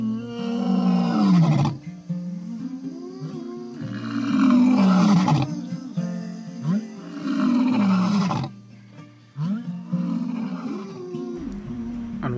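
Male lions of the Orpen coalition roar in the wild in several loud, close bouts, each a series of deep, heaving grunting calls separated by short pauses.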